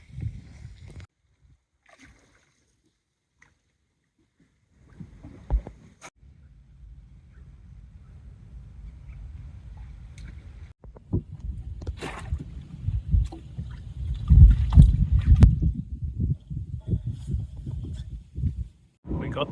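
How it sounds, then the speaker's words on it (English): A boat motor putters along in the Iraqi marshes after a restart. It is quiet at first, then a low rumble builds and swells, growing loud and rough toward the end, with a few faint sounds scattered over it. "got the boat started again"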